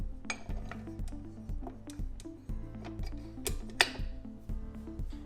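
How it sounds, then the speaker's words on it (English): Dough hook attachment being fitted onto a stand mixer, a run of light metallic clinks, ticks and taps with one sharper clink near the end, close and fairly quiet, no talk. "Switch over to the dough hook attachment."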